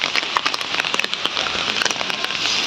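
Light rain patters steadily on surfaces around a wet street, a close, continuous hiss dotted with scattered louder drops and no voices.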